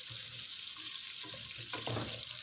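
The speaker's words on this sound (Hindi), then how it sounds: "इसके अंदर कुकिंग ऑयल डालेंगे और एक दरमियाने साइज़ का प्याज इसमें काट के वो डालेंगे। प्याज को हम हल्का लाइट ब्राउन कर लेंगे।" Chopped onion frying in cooking oil in a kadai, a steady soft sizzle running throughout with a brief louder crackle of stirring near the end.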